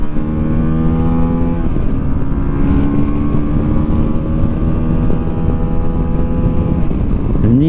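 A QJ Motor SRT125 DX 125cc trail motorcycle engine drones loudly and steadily from the rider's position, its pitch stepping as gears shift down and then climbing sharply near the end as it revs to overtake, with wind rush underneath.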